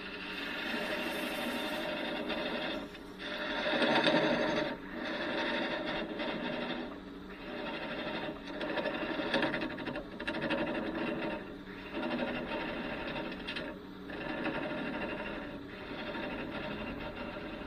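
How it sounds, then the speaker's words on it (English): Wood lathe spinning a small snowman blank while a thin parting tool cuts, producing a steady, continuous whirring scrape with slight rises and dips in intensity, close and alone without talk. "Turn the lathe in the right direction."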